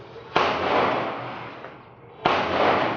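Gunshots at an outdoor shooting range, two sharp cracks about two seconds apart, each followed by a long rolling echo, heard at moderate distance with no talking.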